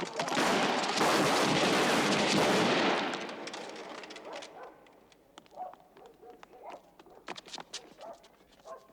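Gunfire fired into the air during a tense confrontation: a dense, loud burst of overlapping shots for about three seconds, then quieter scattered sharp reports and a few distant cracks.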